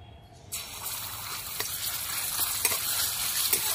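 Garlic paste and nigella seeds hit hot oil in a pan, and a loud, steady sizzle and crackle bursts in and keeps going, with a few sharp pops and no voices.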